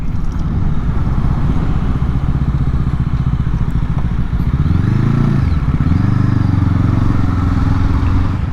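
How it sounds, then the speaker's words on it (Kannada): A Brixton Crossfire 500 X motorcycle with fuel injection throbs loudly and close, then rises in pitch as the throttle opens midway and holds at a higher steady pull, with a light whistle under the engine note and no voices. "ಸೊ ಇದ್ರದ್ದು ಫ್ಯೂಲ್ ಇಂಜೆಕ್ಷನ್ ಒಂಥರ ಸೌಂಡ್ ಇದೆ. ನೀವು ಥ್ರಾಟಲ್ ಓಪನ್ ಮಾಡಿದಾಗೆಲ್ಲ ಒಂಥರ ಲೈಟ್ ವಿಸಲ್ ಇದೆ"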